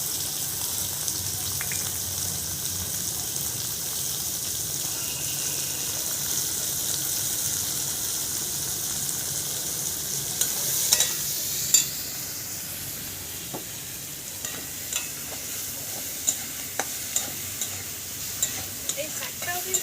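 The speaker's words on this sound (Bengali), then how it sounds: "পেঁয়াজ, আলু একসঙ্গে ভেজে নেব" Onion and potato fry together in a pan for a village-style greens dish, with a soft continuous sizzle and a few scattered stirring scrapes toward the end, quiet and close.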